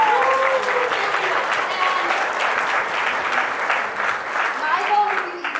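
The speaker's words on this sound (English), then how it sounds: "let's give them a humongous round of applause" Sustained applause from a small audience at an education leadership team meeting, steady and fairly loud throughout, with a few voices faintly audible underneath.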